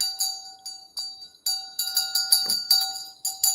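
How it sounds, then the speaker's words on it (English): Hand bell rung in bursts of quick, bright jingling strokes, loud and close, with brief pauses between shakes and no talking. "Let me grab my bell."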